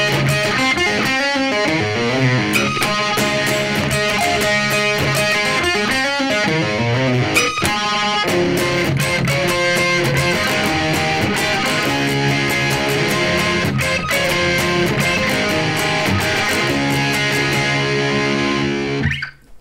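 Electric guitar plays the intro of a song in an alternate tuning without a capo, with fast, dense tapped and picked notes in a continuous driving pattern for about twenty seconds, loud and close with no talking.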